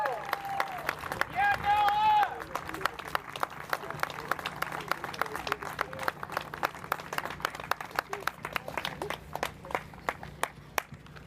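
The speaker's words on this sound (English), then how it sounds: "Let's give these men a big, big round of applause." Audience at an Air Force obstacle-course championship applauds, dense sustained clapping with cheers and a few whoops, brief speech early, steady for about eleven seconds.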